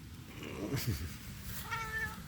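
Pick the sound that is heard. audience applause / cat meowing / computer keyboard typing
cat meowing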